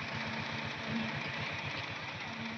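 Tractor engine hauling bricks upward, a steady low throbbing drone with a regular pulsing beat, heard at moderate distance and fairly quiet, with no talking.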